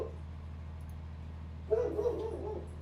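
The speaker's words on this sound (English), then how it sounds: "And there goes my dog." A dog gives a short burst of barking and whimpering inside a glassblowing studio, briefly rising over a steady low mechanical hum.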